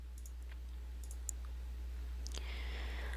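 A computer mouse clicks a few times, faint and quick, over a steady low electrical hum with no talk.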